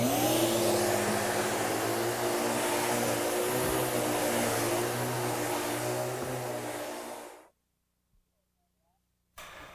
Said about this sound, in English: So let me vacuum these stairs for you.